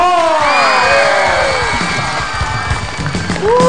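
A lively audience cheers, whoops and shouts loudly to welcome performers at a weekend night entertainment show, with a dense crowd roar swelling throughout and a host's voice cutting in near the end.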